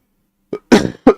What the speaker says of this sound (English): Lingering cough from the cold.